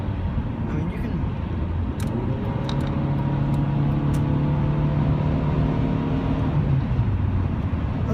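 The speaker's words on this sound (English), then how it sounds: "There's just a lot of wind noise and road noise." Steady wind and road noise fill the cabin of a 2000 Honda Civic while driving, a loud continuous rumble with a low engine drone that rises and falls in pitch, plus a few faint clicks.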